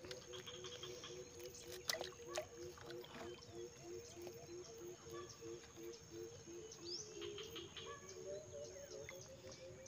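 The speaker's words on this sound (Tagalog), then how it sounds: "Yung huni ng mga ibon." Birds call and chirp in a forest beside water during a fishing trip, with repeated short tweets standing out over a steady insect and water background, fairly faint and without speech.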